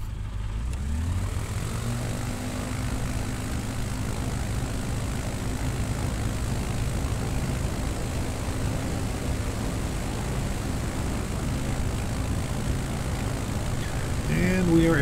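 A propeller plane in Microsoft Flight Simulator 2020 accelerates for takeoff at full throttle, the engine and propeller droning loudly and continuously, building slightly toward the end.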